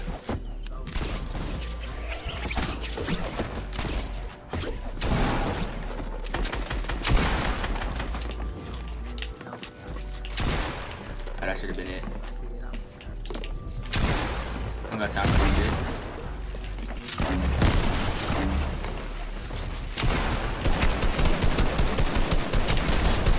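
Rapid gunfire bursts and booms in a Fortnite Battle Royale match, dense and loud throughout with players talking over the shooting.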